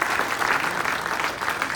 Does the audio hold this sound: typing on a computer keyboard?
no